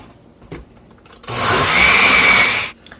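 A blender whirs loudly for about a second and a half, blending tart currants and rhubarb for creamsicles, starting abruptly and cutting off, with quiet handling sounds before and after.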